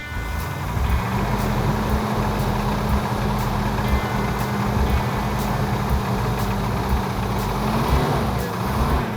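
An idling Cuda engine runs loud and close with a steady, rhythmic metallic knocking and clanking repeating throughout.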